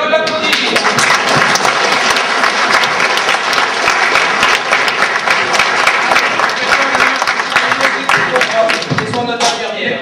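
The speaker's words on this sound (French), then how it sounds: "Et on l'applaudit." A loud crowd gives sustained, dense clapping that fills the whole stretch, with some voices mixed into the applause.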